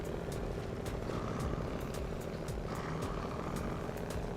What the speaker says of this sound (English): That is a really annoying engine sound.